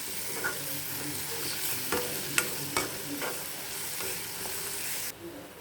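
Chili powder, turmeric, ginger-garlic paste, garam masala and coriander powder fry in hot oil for an egg curry, giving a steady close sizzle with brisk scraping stirs and occasional sharp taps of the spoon against the pan.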